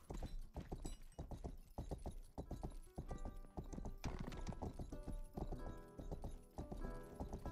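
Steady clip-clopping police horse hooves in the video game Rustler with an occasional whinny, layered over game sound effects and background music.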